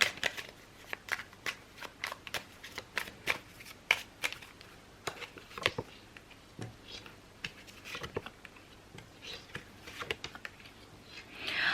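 Tarot cards are shuffled and tapped in quiet, irregular bursts of crisp riffling and snapping, close up, with no talking.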